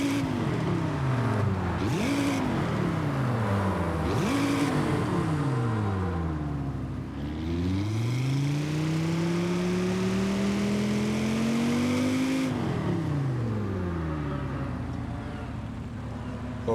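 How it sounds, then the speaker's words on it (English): A Volvo C30 engine in the video game Forza Horizon 5 revs repeatedly, its pitch climbing and falling in several sweeping surges, then holding a long, loud rev before easing off. "we're gonna go ahead and rev our engine like normal, and we're gonna see how it sounds"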